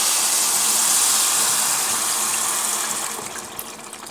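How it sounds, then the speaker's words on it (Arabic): Water gushes steadily and loudly into a pot of rice cooking with saffron and turmeric, then tapers off toward the end. "ثم كنضيفو ليه الماء اللي غادي يطيبو"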